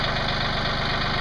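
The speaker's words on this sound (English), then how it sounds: "I hope you can hear me on this tractor running" A tractor engine idles steadily nearby with a continuous low chugging rumble and even mechanical rhythm, running alone with no voices.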